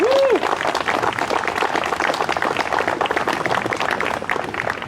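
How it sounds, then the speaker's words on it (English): Audience at a veterans memorial rededication ceremony in DeKalb applauds a scoutmaster receiving a hero award, with steady, dense clapping from a sizable crowd that holds at an even level for the whole stretch. "Let's give him a nice round of applause."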